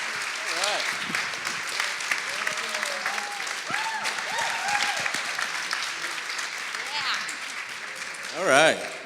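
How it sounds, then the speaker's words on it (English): A crowd applauds steadily throughout, with a voice briefly calling out over the clapping near the end. "We could just sit here and bask in the applause for a while"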